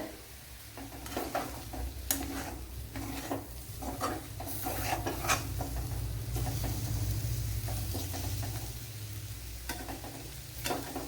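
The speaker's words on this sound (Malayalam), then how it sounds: "മുളക് പൊടി മല്ലിപ്പൊടി കായപ്പൊടി കുരുമുളക് പൊടിയൊക്കെ നല്ലൊന്ന് മൂക്കണമല്ല അതുകൊണ്ടാണ് ഇളക്കി കൊടുക്കുന്നത്" Chilli, coriander, asafoetida and black pepper powders fry in a pan for a bitter gourd dish, a steady close sizzle broken by repeated scraping stir strokes throughout.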